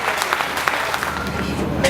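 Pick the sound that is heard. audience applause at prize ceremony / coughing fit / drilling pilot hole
audience applause at prize ceremony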